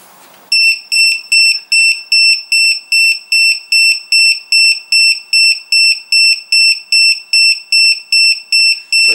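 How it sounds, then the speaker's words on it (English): LiPo battery voltage alarm buzzer on a 2S pack bleeping for low voltage, a loud, piercing, high-pitched beep repeating rapidly and evenly about twice a second, alone. "you can hear it bleeping its nut off. Basically that's below voltage"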